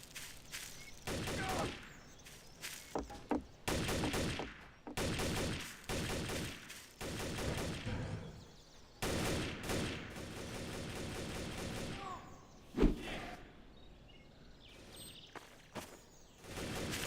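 Bursts of video game gunfire, heavy fusillades and rapid machine-gun volleys, arrive in repeated clusters with brief pauses, loud and close, along with a few whooshes and footsteps in a hectic shootout.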